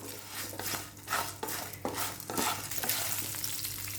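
Green chillies and onions fry in a pan for cucumber chutney, with a close, soft sizzle broken by rhythmic scraping strokes of a spoon about every half second.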